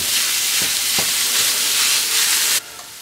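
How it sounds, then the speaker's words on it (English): Lean ground beef sizzles steadily in a pan with a bright, continuous frying hiss, a few soft stirring scrapes, then drops sharply quieter near the end. "We're going to cook this until the ground beef is done."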